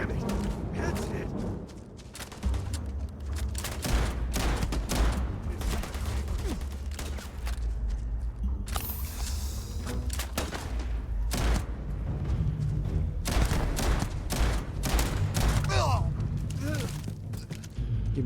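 Repeated shotgun blasts boom in the video game Starfield during a bank heist firefight, loud sharp bursts scattered across a dense, noisy battle with voices talking between shots.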